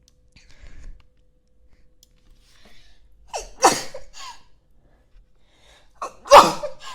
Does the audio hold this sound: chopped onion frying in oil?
no